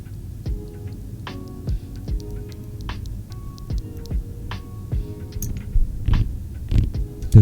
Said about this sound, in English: the switches that you use for a keyboard is actually the Keychron red switches, which sounds like this